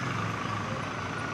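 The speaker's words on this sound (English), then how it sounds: "Even in this kind of manic daytime traffic." Busy daytime city traffic rumbles nearby, heard from a Royal Enfield Bear 650 motorcycle, with a heavy vehicle engine droning steadily under a dense wash of street noise.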